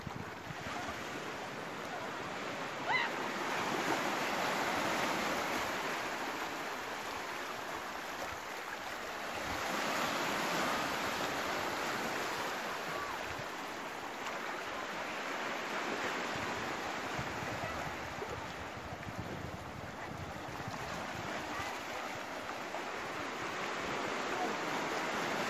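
Steady roar of ocean surf on a south-coast beach of Flores Island, Indonesia, waves swelling and breaking continuously with some wind noise, no voices.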